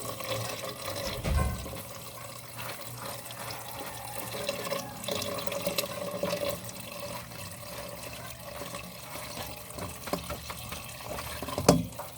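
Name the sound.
water running while washing kangkong leaves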